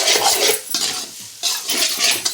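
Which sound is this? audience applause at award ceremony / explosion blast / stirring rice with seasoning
stirring rice with seasoning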